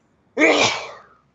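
One loud, close sneeze bursts out suddenly and trails off over about a second, alone against silence.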